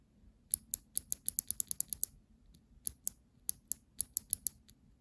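NovelKeys Sherbet clicky keyboard switches clicked close up, a rapid run of about a dozen sharp, crisp clicks followed by a pause and then another evenly spaced burst, alone without talk.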